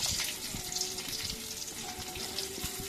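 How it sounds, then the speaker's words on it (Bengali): Rohu fish pieces fry lightly in oil in a pan, giving a steady close hiss and sizzle with small crackling pops throughout and no talking. "মাছগুলো আবার করে একটু ভেজে নিচ্ছি হালকা করে।"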